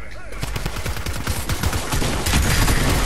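Rapid bursts of gunfire in the Fortnite video game, dense overlapping shots rattling in quick succession, loud and close, with a brief voice at the start.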